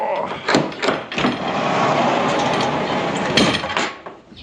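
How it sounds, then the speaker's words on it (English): A heavy barn door in a horse barn rumbles and scrapes as it slides open, with a few knocks and clunks at the start and end, close and moderately loud. "There we go. Heavy door."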